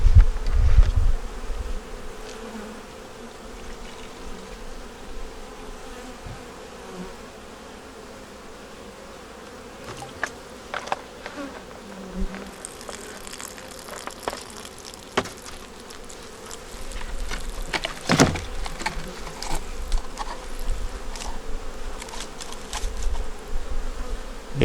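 Honey bees buzz steadily around an opened hive, a dense continuous drone close by, with occasional louder passes of single bees and faint handling knocks.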